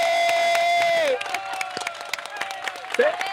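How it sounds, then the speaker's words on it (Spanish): Audience at a podcast taping breaks into cheering and applause, a loud crowd swell with shouts and claps that follows a sustained tone and carries on around speaking voices. "Quiero que la aplaudan."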